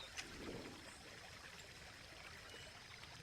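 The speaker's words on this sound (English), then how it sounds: "Here again, we got the fountain." A fountain in the Conan Exiles game world trickles and pours steadily, a soft continuous water babble throughout with no talking.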